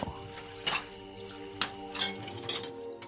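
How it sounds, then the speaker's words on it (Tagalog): Dishes being washed: plates and cutlery clink and knock in a few sharp, scattered hits over faint running water, fairly quiet and with no talking. "Habang naghuhugas ng pinggan,"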